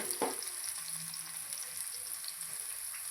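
Eggplant curry with coriander fries in a pan, a faint, even sizzle with one soft stirring knock near the start, quiet and free of voices.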